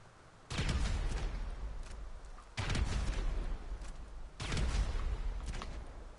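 Three heavy, booming launches from a video game grenade launcher, evenly spaced about two seconds apart, each a loud blast that trails off into rumble.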